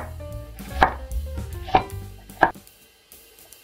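A knife cuts onion into triangular pieces on a board, three distinct, crisp chops at uneven intervals, close and clear with quiet gaps between.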